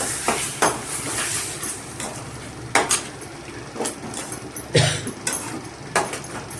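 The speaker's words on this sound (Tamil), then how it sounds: "மசாலா சேர்த்து நல்லா வதக்கிக்கலாம்" Ground masala is sautéed in a pan, with intermittent metallic scrapes and clinks of a spoon against the pan over a faint sizzle, close by and without speech.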